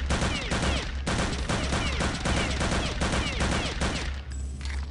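Rapid gunfire in Return to Castle Wolfenstein, a loud close barrage of quick repeated shots in a steady automatic rhythm, continuous for several seconds before briefly thinning near the end.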